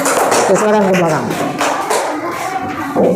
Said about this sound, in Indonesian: Tepuk tangan untuk si Aira.